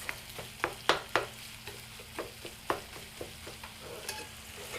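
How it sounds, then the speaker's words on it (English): Finely minced lean beef frying in butter with mitmita spice, a quiet steady sizzle punctuated by sharp, irregular scraping clicks of stirring in the pan, with no talk. "I put my lean beef, finely minced beef, in the butter mitmita"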